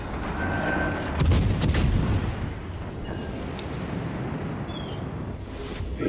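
Heavy naval gunfire from a Tier 6 premium cruiser, the Belfast, in World of Warships Legends, with a loud burst of deep booming salvos early on, then quieter rumbling and scattered distant shots.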